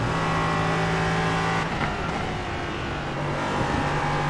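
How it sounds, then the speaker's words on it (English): Ligier LMP3 prototype race car in iRacing at Donington, its engine droning steadily at high revs with a brief dip as it shifts or lifts, then pulling on, close and loud with no talking. "Oh, lovely Ligier LMP3 sound"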